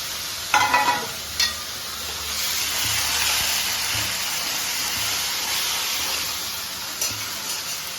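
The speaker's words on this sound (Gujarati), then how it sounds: "હવે નાખી દઈશું ડુંગળી બધી નાખી દેવાનું" Onions are tipped into a hot pan and sizzle loudly and steadily. A few sharp knocks and stirring scrapes sound at the start and again later over the continuous frying hiss, with no talk.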